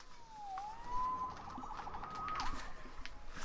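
A police siren in the video game Marvel's Spider-Man wails, rising and falling at a moderate distance, its tone sweeping up and down over a faint background hum.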